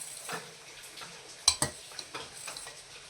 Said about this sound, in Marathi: सतत ढवळत राहायचं